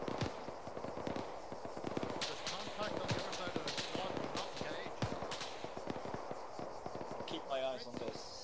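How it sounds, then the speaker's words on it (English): Gunfire during a platoon training exercise crackles as dense, rapid shots going overhead in a steady rattling stream, fairly distant and continuous, heard under voices speaking. "Those shots going over our head."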